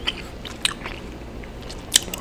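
Close, wet chewing of gum, with soft smacks and a few sharper clicks and crunches spaced irregularly over a quiet background.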